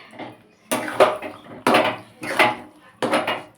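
A spoon stirs ghee into spinach curry in a metal pot, giving four rhythmic clattering scrapes and knocks against the pot, each followed by softer shuffling. The sounds are close and clear, with no voices.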